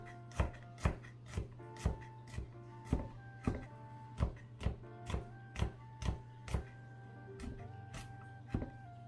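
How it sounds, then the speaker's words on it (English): Garlic being chopped into fine pieces on a board, a steady run of crisp knife thuds at an even rhythm, close and distinct, slowing near the end. "you wanna chop up your garlic in fine pieces"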